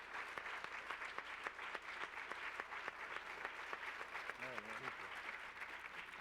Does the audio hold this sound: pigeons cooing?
no